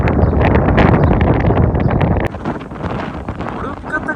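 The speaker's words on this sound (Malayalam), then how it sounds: "ഒടുക്കത്തെ കാറ്റാട്ടോ" Strong wind roars across open, treeless North Dakota plains, buffeting the microphone loudly for about two seconds before easing into gusty rumbling and rustle.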